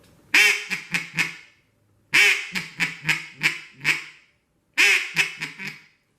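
A hand-blown wood duck call imitates a duck with three bursts of rapid, loud quacks, close up, separated by short silences.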